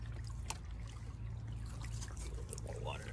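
Water trickles and splashes continuously while gold is panned in a creek, a steady close wash with brief sharper splashes, with a low hum underneath.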